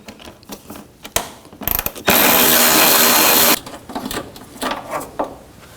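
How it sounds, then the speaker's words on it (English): A 10mm ratchet wrench loosens the headlight bolts on a 2009-17 Chevy Traverse, with a loud, steady ratcheting buzz lasting about a second and a half, set between scattered clicks and handling knocks close by. "Use a 10mm ratchet wrench"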